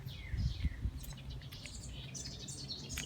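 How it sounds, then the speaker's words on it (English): Several birds chirp and whistle in quick bright phrases, somewhat distant, over soft low outdoor rustling in summer castle grounds gardens. "You can hear the birds."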